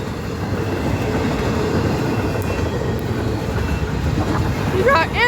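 CN intermodal freight train rolling past close by, a loud continuous rumble of wheels and cars with no break, and a brief squeal near the end.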